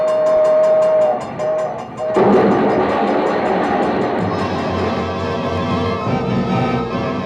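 A train rumbles past a crossing as a radio drama sound effect, with a long horn blast at the start, then heavy rolling clatter of cars that carries on loud and steady with no talk.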